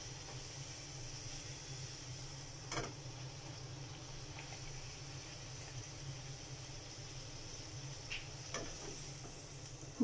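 Wheat poori made with semolina and ajwain frying in hot oil, a steady low bubbling sizzle that holds evenly throughout, with a few faint clicks over it.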